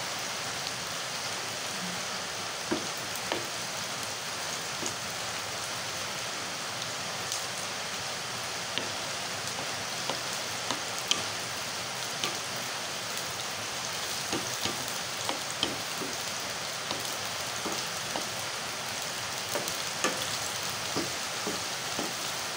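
Onions frying in a pan while cooking adobong talong, a steady even sizzle with scattered small pops and crackles throughout, continuous and close, no voices.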